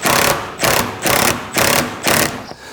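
An impact wrench tightens bolts with nylock nuts on a Cropper Hopper bin, five loud close rapid hammering bursts in an even rhythm, each about a third of a second, alone without speech.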